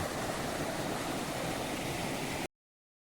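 Steady rushing of a forest stream flowing past Kumbhavade village near Rajapur, broadband and constant, fairly close, with no voices, cutting off abruptly near the end.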